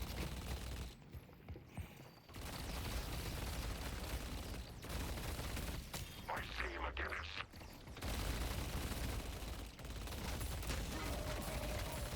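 Sustained rapid gunfire from deployed turrets in the video game Deadlock, dense rattling bursts with brief pauses, loud and continuous under a busy game mix.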